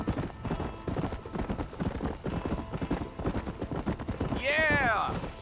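A horse galloping in the video game Red Dead Redemption, rapid rhythmic hoofbeats throughout, with a whinny near the end, under a man's spoken dialogue.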